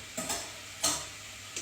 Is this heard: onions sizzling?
yes